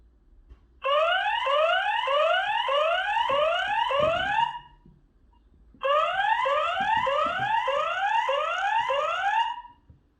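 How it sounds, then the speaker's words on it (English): A Wansview light bulb security camera's siren mode: a loud electronic siren sweeps rapidly upward in repeated whoops, sounding in two long bursts of about four seconds each with a short silence between. "And you got a siren mode too."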